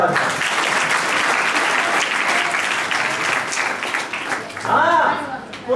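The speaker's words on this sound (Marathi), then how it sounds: "पोरीच्या नावाने टाळ्या वाजवा." An audience at a school essay competition event claps in a dense, loud burst that fades toward the end, with a voice starting up over the last moments.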